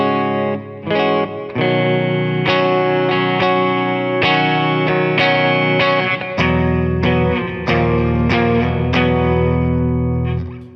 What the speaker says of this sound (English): you can really hear some nice little reverb going, very subtle.